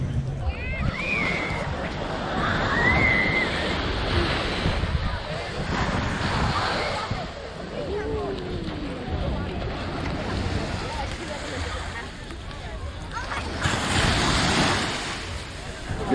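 Ocean surf rolls steadily onto the beach at Half Moon Cay, a continuous broad wash with wind buffeting the microphone, swelling again toward the end.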